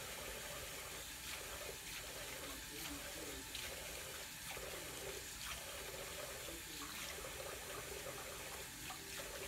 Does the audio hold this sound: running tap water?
yes